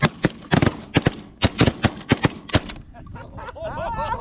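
A rapid volley of about a dozen close, sharp shotgun blasts rings out during a North Dakota goose hunt, irregularly spaced, then fades into faint goose honking and distant calls.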